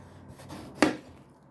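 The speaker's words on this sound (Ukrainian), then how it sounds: "Баклажан обрезаю хвостик." A kitchen knife slices the stem end off an eggplant on a cutting board with a single crisp cut, faint and close, amid quiet room noise.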